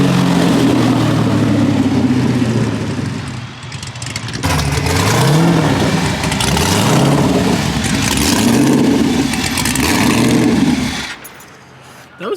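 A drag-style street car making a hard launch on a street test hit with new front runners, a loud roaring engine that builds and pulls through rising gears before fading away, with a voice briefly over it.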